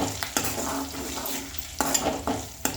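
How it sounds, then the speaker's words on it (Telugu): Ten cloves of garlic fry and sizzle in a pan for gongura chutney, a steady close hiss broken by a few sharp stirring scrapes and clinks of a utensil against the pan. "ఇప్పుడు ఇగో వెల్లుల్లి వేసుకుందాం ఒక పది గల్ల వెల్లుల్లి"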